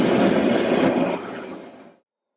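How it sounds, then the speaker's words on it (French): Passenger train hauling container wagons near Bergün in the Swiss Alps, rumbling past close by in a loud steady roll that drops in level midway and then cuts out, with no talk. "Les trains de voyageurs servent aussi à transporter des marchandises sur des wagons chargés de conteneurs."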